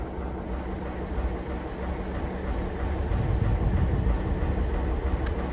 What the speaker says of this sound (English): we can have a shot of the loco hauling the entire train